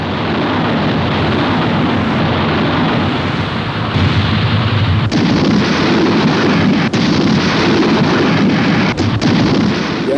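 Heavy naval gunfire and explosions hit the German battleship Bismarck as the British battleships Rodney and King George V shell it in the Second World War. The loud, continuous rumble is thick with overlapping booms that grow heavier partway through.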